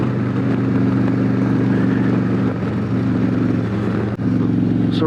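A 2020 Harley-Davidson Road Glide Special with a Stage II S&S 475 cam pulls hard from third into fourth, its engine a loud, continuous low rumble with a brief dip at the shift.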